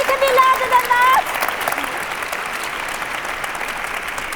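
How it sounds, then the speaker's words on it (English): An audience at an awards ceremony inside Westminster Abbey breaks into a sustained round of applause that carries through the whole stretch, with a voice speaking briefly over it at the start. "If I can get a round of applause."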